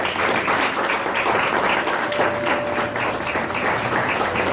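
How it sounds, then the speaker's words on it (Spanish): A church congregation at a Sunday Spanish-language service applauds loudly and steadily, a dense wash of many hands clapping that carries through the whole stretch without a break. "Dale un aplauso al Señor."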